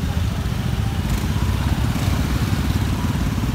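Motorcycles queue in slow traffic on Jalan Pantai Kuta in Kuta, Bali, their engines idling and puttering in a dense, steady rumble close by, with no talk over it.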